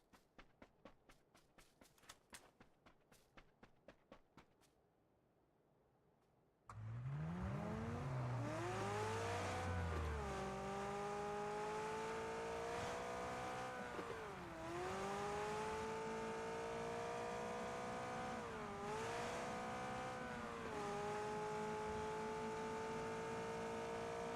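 McLaren car in the PUBG video game: a few quiet footsteps, a pause, then the engine starts abruptly and roars steadily, pitch climbing and dipping with each gear change and swell of throttle, loud and close throughout.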